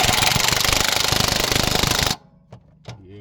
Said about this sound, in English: Take your impact gun, make sure it's in reverse. Tighten that boy up.